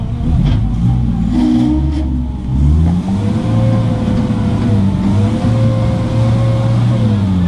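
Close car engine revving, its low pitch climbing and falling in a couple of surges before settling into a steady running drone, with no talking over it.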